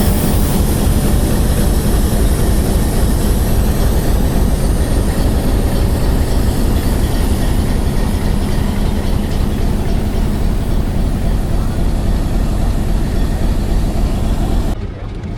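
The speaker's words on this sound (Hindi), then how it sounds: "ये जनाब पूरे 11 बजे डिपार्चर हो रहा है जी 130 डाउन का जंड जंक्शन से" The Thall Express, a 130 Down passenger train, departs Jand Junction with a loud, continuous rumble of engine and rolling stock that holds steady close by for about fifteen seconds before cutting off abruptly.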